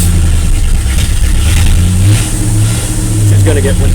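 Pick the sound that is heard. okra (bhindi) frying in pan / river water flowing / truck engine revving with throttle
truck engine revving with throttle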